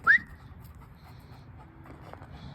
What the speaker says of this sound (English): This is Grim after he's been done training.